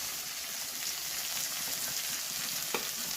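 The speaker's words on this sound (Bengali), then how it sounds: "তো বেশি আমি লাল লাল করে ভাজবো না পেঁয়াজটা।" Chopped onions and green chilies frying in a pan for a spicy small-fish chorchori, a steady close sizzle and crackle with faint stirring clicks and one sharp pop near the end, no talk.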